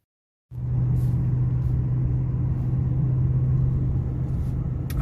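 Car driving along a mountain canyon road in western Colorado, a steady loud low engine and road rumble that starts abruptly after a short silence and holds evenly to the end.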